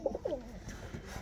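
Pigeons coo nearby with a few soft, low, rounded calls in quick succession, then quieter murmuring, set against faint outdoor background noise.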